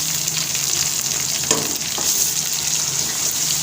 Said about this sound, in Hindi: अच्छी तरह से इसको भून लेंगे।